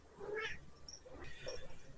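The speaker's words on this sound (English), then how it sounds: "This is my black cat." A black cat meows several times at close range, with short rising calls spread across a couple of seconds and a quiet indoor background.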